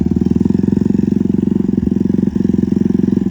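A motorcycle engine runs during wheelie practice, a loud, close, rapid low thumping pulse held fairly steady, with a couple of brief dips as the throttle shifts, and no one talking.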